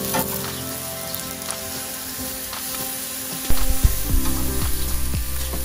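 Garlic ginger chicken sizzles steadily on a Japanese-style BBQ grill, close and crackling, then a sharp clatter and louder bursts of sizzle as the pieces are handled partway through.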